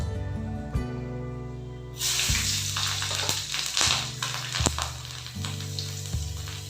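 Panch phoron and slit green chillies hitting hot oil for a thin hilsa fish curry: after a couple of quiet seconds a loud, bright sizzle bursts in and holds steady, with background music under it throughout.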